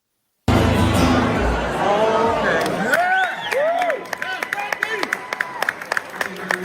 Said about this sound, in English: There will be a smattering of applause when he ends.